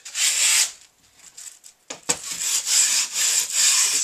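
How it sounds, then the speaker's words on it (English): Excess skateboard grip tape rubbed against the board's edges to sand them down, giving loud, close, rasping scrapes in back-and-forth strokes with a short pause in the middle. "use the excess to kind of sand it down"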